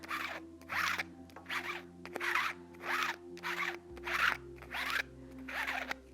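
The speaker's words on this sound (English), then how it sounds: "We are going to just scrape it down several times." A scraper pulls ink across a mini screen-printing screen in about eight quick, evenly spaced scraping strokes, close and fairly quiet, with no talking.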